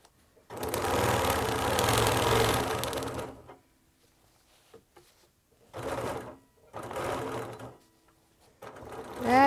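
A sewing machine stitching straight lines of ruler quilting, running in a long loud burst, then two shorter bursts separated by brief pauses, with the motor starting again at the very end.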